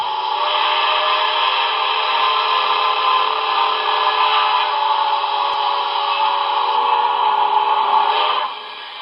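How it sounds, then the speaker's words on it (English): HO scale 4-8-4 DCC steam locomotive model by Broadway Limited blowing one long, steady whistle that holds loud for about eight seconds before cutting off. "It's a long whistle."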